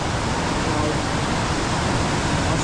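Kumbhe waterfall and the river below it rush in heavy rain, a dense, unbroken roar of falling water that fills the scene at constant loudness.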